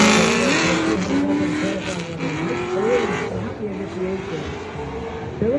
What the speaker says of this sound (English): Filling up that outer zone 1 beautifully, hauling on that left front brake.